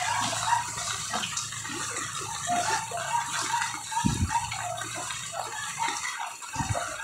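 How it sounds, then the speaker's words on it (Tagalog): Flood water rushing through a street in Imus, Cavite during rain, a continuous watery wash with splashing and gurgling, close and moderate, with a couple of thumps and faint voices in the background. "Bahang baha."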